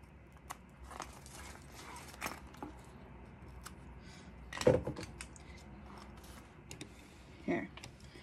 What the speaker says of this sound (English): I'm going to cut off those ends.